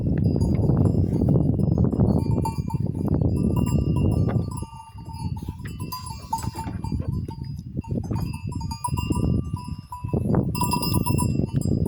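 Goats and chickens feeding and jostling in a village yard, with dense close rustling, clinking and scuffling, bursts of animal activity and a brief quieter lull midway, continuing without speech.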